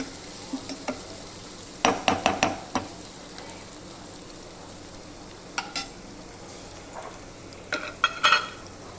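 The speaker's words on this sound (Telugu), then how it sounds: "అల్లం వెల్లుల్లి పేస్ట్ కూడా కొంచెం ఈ పచ్చివాసన పోయేదాకా ఫ్రై చేయాలండి." Ginger garlic paste frying in a pan for broad bean curry, a soft low sizzle beneath a few quick bursts of spatula scraping and stirring, close by and without talk.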